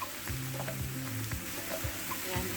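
Liver frying in a pan with green and red chili for homemade lechon sauce, a steady close sizzle with soft crackles and occasional light scrapes, moderately loud, no talking.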